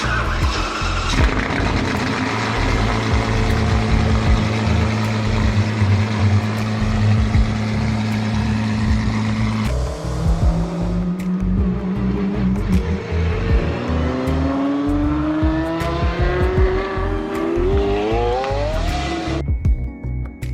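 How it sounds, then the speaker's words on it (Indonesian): An Apollo Intensa Emozione supercar engine, loud and close, running at a steady rumbling idle, then blipped and revved in rising sweeps toward a 9000 rpm redline before cutting off. "Dari idle hingga redline di 9000 rpm, suara mobil ini seperti orkestra yang memadukan kekuatan dan harmoni."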